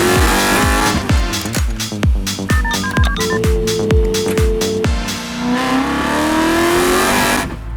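A red BMW M3 engine revs hard in a rapid series of sharp throttle blips, then settles into a rising, sustained pull, loud and close inside the car.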